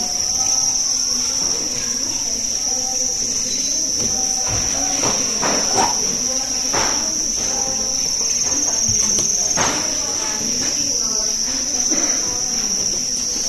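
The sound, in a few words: crickets in a breeding box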